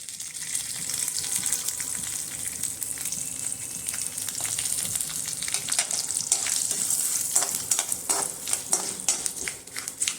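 Curry leaves and a pinch of asafoetida sizzle steadily in hot oil while making spicy kozhukattai, a continuous close crackle that grows busier with scattered sharp pops and some stirring.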